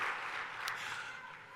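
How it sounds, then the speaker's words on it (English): A crowd at a Wits University welcome day event gives a warm round of applause for two alumni hosts, a soft, steady wash of clapping heard from a distance. "give the two of them a warm round of applause"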